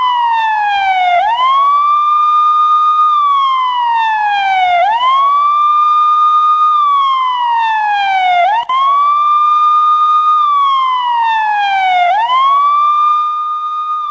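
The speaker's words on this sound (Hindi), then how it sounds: "पाकिस्तान में चारों तरफ एम्बुलेंस की आवाज और एम्बुलेंस के सायरन गूंज रहा था" A loud ambulance siren wails in repeating cycles, sweeping up and holding then sliding down, four rises in a row, close and unbroken, in Pakistan.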